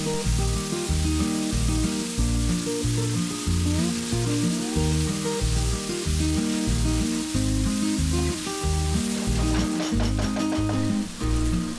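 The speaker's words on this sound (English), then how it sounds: "Then fry it until the tomatoes are nice and soft." Ginger garlic paste and tomatoes frying in a pan for mutton pulao, a steady close sizzle and hiss running throughout, heard alone, with music playing over it.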